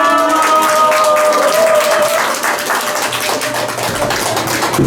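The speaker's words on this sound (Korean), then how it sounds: "다시 한번 큰 박수 부탁드립니다." Applause from the audience at a 106th March 1st Independence Movement Day ceremony in Ulsan, following a performance by a student club; steady clapping fills the space with tonal sounds fading in the background.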